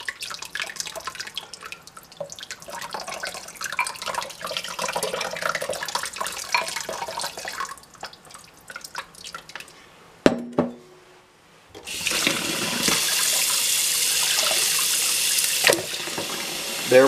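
Water runs and splashes steadily for several seconds, breaks off briefly, then returns as a louder, bright rushing pour of boiling water into an old glass bottle.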